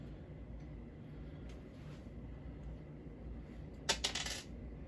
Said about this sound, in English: I need you to roll the triangle dice of your color.